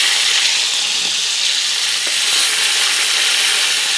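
Food sizzles steadily and loudly in a very hot cast-iron skillet, a dense, even crackle that stays constant throughout with no voices.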